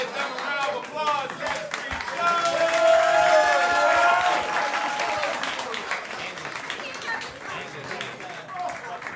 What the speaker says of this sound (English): them a round of applause.